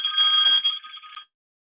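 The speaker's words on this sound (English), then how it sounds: "Sounds like a phone that was hanging on the wall." An old wall-mounted telephone bell rings in a bright metallic trill, one continuous burst that fades and stops after about a second, with silence after.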